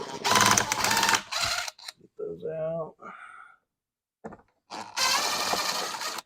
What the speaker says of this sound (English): it looks like I can use my drill